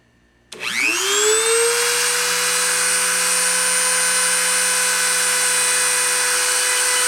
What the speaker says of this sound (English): I'm going to go ahead and start the spindle and start the deposition.